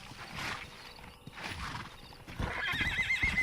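Clip-clop of horse hooves with a horse neighing and whinnying, fairly close, plus a faint mechanical rattle near the end, from the video game Red Dead Redemption during horse breaking.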